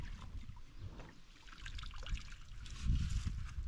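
Water trickling and flowing from a natural spring water mine being cleared, a steady wet dribble with low rumbling outdoors and occasional splashes, close and moderately loud, no talking.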